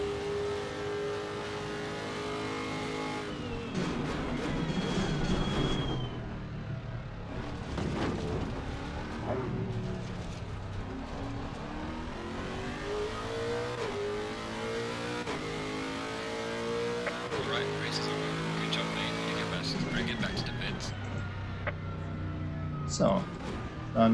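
A race car in Assetto Corsa Competizione at Spa-Francorchamps revs and climbs through the gears with repeated rising engine sweeps, steady and mid-level, under near-continuous talking.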